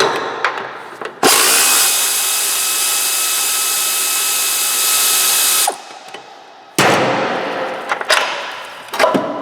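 Power tool whirring loudly and steadily for several seconds while removing Hyundai Sonata control arm bolts, then stopping, followed by a shorter rougher burst with metallic clicks and clanks nearby.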